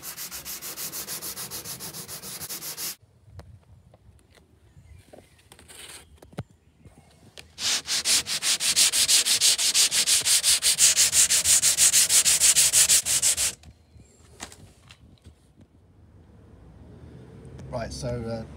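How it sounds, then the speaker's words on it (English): 80-grit sandpaper on a slightly flexible sanding block rubs over a painted surface to feather an edge, bursts of loud, rapid back-and-forth scratching strokes separated by quieter pauses, with a person speaking. "I'm using, this is 80 grit paper there with a sanding block"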